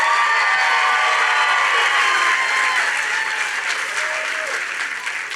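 A large audience at a political campaign announcement claps and cheers for the candidate's wife, sustained loud applause with some voices that slowly tapers toward the end.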